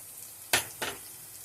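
Spices with cumin and coriander powder fry in a pan, producing two quick bright bursts of sizzle as they are stirred, close and fairly loud over a low background hiss.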